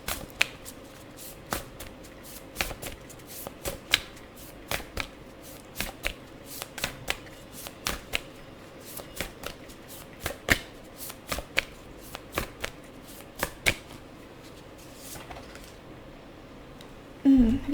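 Tarot cards are riffled and shuffled by hand in a quiet room, a long run of crisp, irregular snapping bursts repeating every half second or so.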